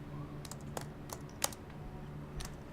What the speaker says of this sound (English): he heard the sound of typing